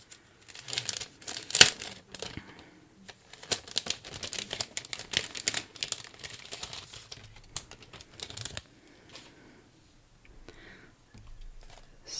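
Plastic packaging of a planner advent freebie crinkles and tears as it is worked open, a busy run of close rustling and sharp crackles that thins out toward the end, with no one talking.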